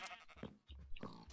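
A Minecraft sheep bleats as it is sheared, two short, wavering bleats in quick succession, faint and close.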